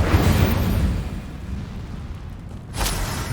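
An Incendio fire spell in the video game Hogwarts Legacy erupts as a loud, rumbling boom with a dense roar, easing off, then a sharp whooshing burst flares near the end.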